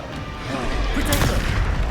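Spell blasts in Hogwarts Legacy, a loud booming explosive burst that swells into a heavy rumbling crash, with a voice shouting spell names over it.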